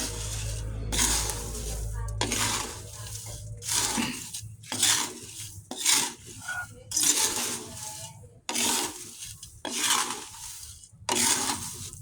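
Coffee beans are roasted by frying in a pan until black, with bursts of dry rattling and scraping as they are stirred, coming in repeated loud strokes separated by brief pauses.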